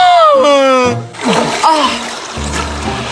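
Water splashes loudly and close by as someone bathes in a cold river, a brief burst of splatter mixed with voices speaking over it.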